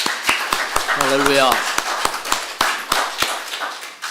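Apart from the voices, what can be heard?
church congregation applauding the choir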